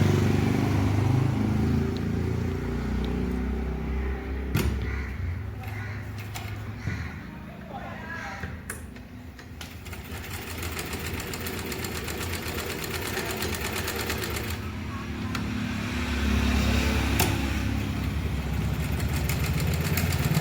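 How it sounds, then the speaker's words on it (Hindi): An Usha sewing machine under repair for thread breakage stitches with a steady mechanical whir and rapid needle clatter, pausing briefly and resuming, while a person talks. "अब आपको सिलाई दिखा देते हैं।"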